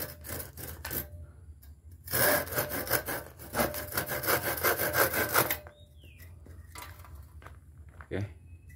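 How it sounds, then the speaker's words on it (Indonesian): German steel hand saw rasping through a hard wooden hoe handle in a long run of steady back-and-forth strokes, near and fairly loud, with quieter scraping before and after. "saya akan coba menggergaji ini sebuah doran cangkul yang kayunya lumayan cukup keras"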